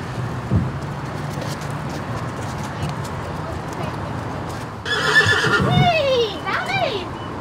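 A horse whinnies loudly in the stables at the Saut Hermès 2018 show-jumping competition. A long shrill neigh rises and falls near the end, over a steady murmur of stable noise and distant voices.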